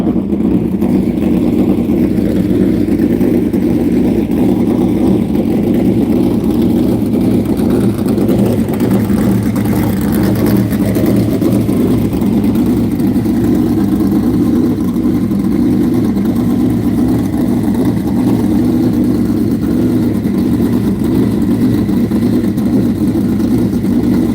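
Outlaw sprint car engines warm up at a dirt track race, a loud continuous roar of several engines revving and idling throughout, steady and unbroken with no talk.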